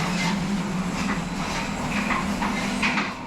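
An Indonesian narrow-gauge train rattles along the tracks with a steady, rough rumble and faint clattering, loud and continuous throughout.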